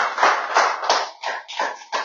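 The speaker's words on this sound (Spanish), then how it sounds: "Le damos un aplauso a Dios por su palabra" A church congregation claps in praise, the sound coming in several distinct bursts that swell and fade in turn, fairly close and heard alone.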